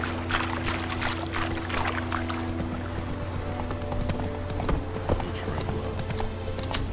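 Horse hooves clip-clop steadily in The Witcher 3, a continuous rhythmic trotting over a low droning game backdrop, with no talk over it.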